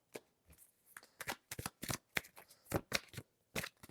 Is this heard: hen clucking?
no